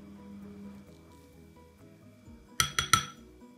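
A teaspoon clinks against a container while borax is added to slime mixture, three quick bright taps in a row after a quiet stretch of faint handling noise.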